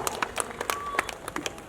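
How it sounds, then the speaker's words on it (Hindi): A small audience at a foundation seminar gives a brief burst of scattered, uneven clapping, distinct individual claps standing out rather than a dense roar. "एक बार जोरदार तालियों मित्रों."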